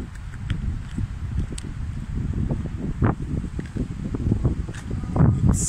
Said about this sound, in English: the wind, the mighty wind